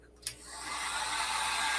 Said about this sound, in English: If you use a heat gun, you really,